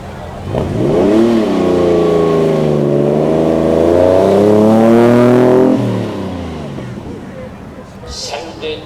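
A TVR sports car from Blackpool burbles loudly past at close range at a supercar event, its engine note rising and falling in a rich, lumpy rumble before fading away.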